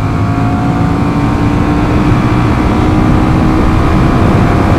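A 2021 Honda CMX 1100 Rebel motorcycle accelerates hard through the gears, its engine a loud, close, continuous drone that climbs steadily without a break.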